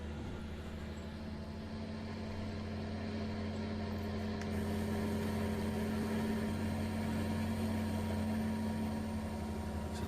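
A John Deere 8030 tractor engine from Farming Simulator 19 runs as a steady, loud, low droning idle with a constant hum, no voices over it.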